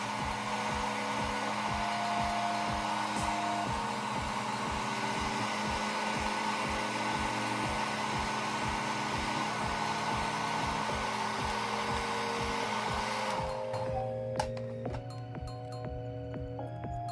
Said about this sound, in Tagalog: gagamitan na natin ito ng blower. At papainitan natin ng 1 to 2 minutes.